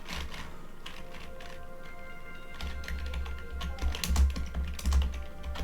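Rapid clattering keystrokes on a malfunctioning computer keyboard, close and continuous, with louder bursts of taps and a low thumping rumble underneath toward the end.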